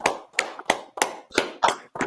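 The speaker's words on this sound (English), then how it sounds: "Can we get a round of applause for Ickey Woods?" Seven sharp, evenly spaced claps sound in a slow rhythm, sparse and moderately near, more like a single person or a few hands than a full crowd, each hit decaying quickly before the next.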